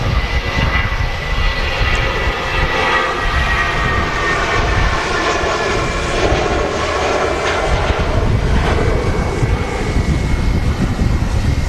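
Airliner slowing down on the runway at Manchester Airport, a loud, steady engine roar with broadband rushing that holds throughout without a break.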